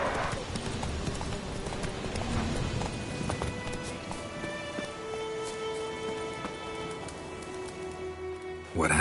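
Roach, the horse in The Witcher 3, gallops with steady rapid hoofbeats on a dirt road, a continuous close clip-clop rhythm carried over soft ambient game noise.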